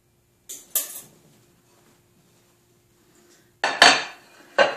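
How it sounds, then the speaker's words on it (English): The lid clacks back onto a microwave dish of ginger garlic chicken wings: a couple of light knocks, a pause, then a louder clatter and one final tap, close and crisp with no talking. "Put the lid back on."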